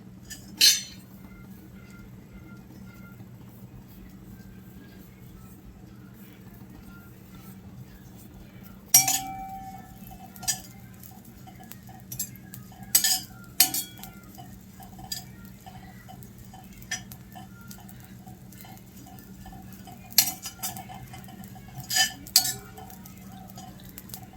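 Coconut dry-roasting in a pan for misal, heard as sparse, sharp clinks and scrapes of a utensil against the pan over a quiet, steady background hum, with no one speaking.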